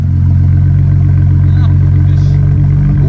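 A car bought from a salvage auction idles after its coil pack is reconnected, the engine running steady and loud with a low continuous drone throughout, no clear misfire stumbles.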